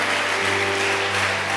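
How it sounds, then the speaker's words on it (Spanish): A church congregation claps together, a dense steady wash of applause close by with a low hum beneath, lasting only a moment. "Denle un aplauso al Señor, mis amados."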